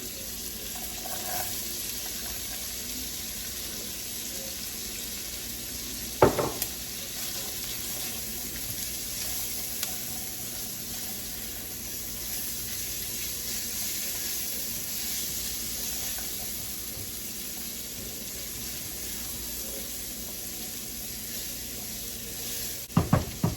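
Half of a small red onion sautéing in a pot while Cuban-style red beans are being made: a soft, continuous low sizzle at a modest level, with a couple of faint clanks and no talking.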